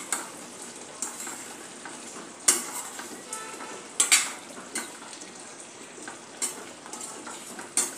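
A drumstick and potato sabzi stirred in a pan with a metal spoon, a quiet background sizzle broken by intermittent sharp scrapes and clinks against the pan, steady and close with no speech.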